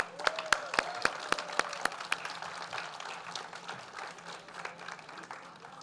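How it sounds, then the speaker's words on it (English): Audience applause at a documentary masterclass event: several sharp, evenly spaced claps up front, then a looser, softer patter of clapping from a crowd that thins out toward the end. "Please keep the applause going for the Academy Award nominated Ms. Lucy Walker"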